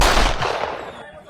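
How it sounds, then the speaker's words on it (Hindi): A burst of gunfire sprayed at a black Scorpio car near a police station during a gang attack in Haryana, India, heard as a loud, dense crackle that fades over about a second. "हमलावरों ने एक स्कॉर्पियो गाड़ी पर अंधाधुंध फायरिंग की।"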